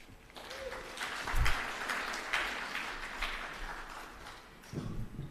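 Audience applause at a gathering on shelters for gender-based violence victims, scattered moderate clapping that swells and fades with a few thumps and handling noises.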